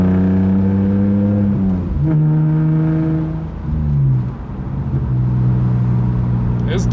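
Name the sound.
BMW E46 engine with big aftermarket exhaust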